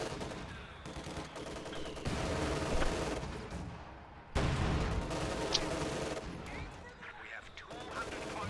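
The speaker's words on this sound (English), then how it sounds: "White phosphorus barrage goes in on the packs." A white phosphorus artillery barrage lands in Company of Heroes 2, heard as repeated booming impacts and crackling bursts over constant battle noise, with some voice alongside.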